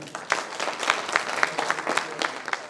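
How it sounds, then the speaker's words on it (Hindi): An audience claps for a team at a political gathering, a steady, dense patter of many hands that is fairly loud and close and goes on without a break. "इस पूरी टीम के लिए जोरदार तालियां बजाएं"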